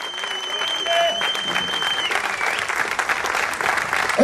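A crowd at a boxing show in Antalya claps steadily and loudly, with a few thin whistle-like tones riding over the applause early on.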